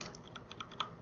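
Someone types on a computer keyboard, a quick irregular run of soft clicks and taps, close but quiet, with no voices.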